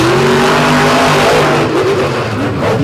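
Race truck engines roar and accelerate loudly at a Brooksville truck race, a steady close, sustained revving drone with rising pitch and faint tire noise toward the end.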